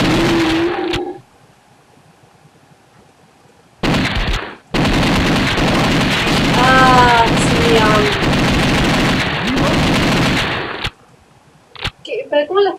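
Rapid gunfire from The House of the Dead arcade shooter, loud and close, comes in dense bursts broken by brief pauses, with game effects and a sweeping tone mixed in.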